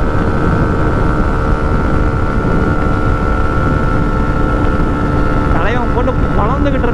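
A 2024 TVS Xtreme 125R motorcycle engine revved hard toward its rev limiter, a loud, steady, close drone that climbs and wavers near the end, with a voice in the background.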